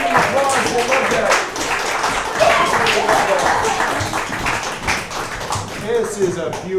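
Audience applause greets an improv cast taking the stage, dense clapping mixed with crowd noise and voices throughout, steady and loud for several seconds.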